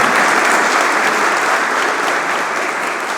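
A church congregation claps loudly and continuously, a dense, even wash of applause that fades only slightly toward the end.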